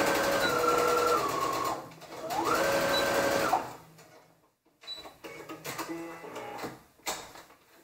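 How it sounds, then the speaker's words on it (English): Home sewing machine stitching a 5/8-inch side seam on a garment, two long steady whirring runs, a brief pause, then shorter bursts of stitching, close and clear with no talk. "go ahead and sew down 5/8 of an inch of a seam of the side from the side seams"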